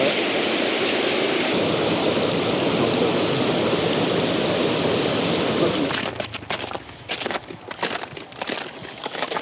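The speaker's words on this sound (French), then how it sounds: "Ça fait une cascade là-bas." Water from a draining glacial lake rushes in a cascade, a loud, dense, steady roar near the listener that suddenly drops away after about six seconds into broken, choppier splashing.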